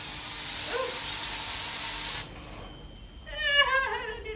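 A spray can hisses steadily at a swarm of gnats outdoors for about two seconds, then cuts off, followed by faint rustling and a brief chirping cry.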